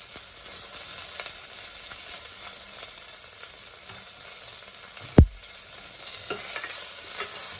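Onion, curry leaves and garlic sautéing in a pan, a steady moderate sizzle with faint stirring scrapes and one sharp knock of a spoon on the pan midway, no voices.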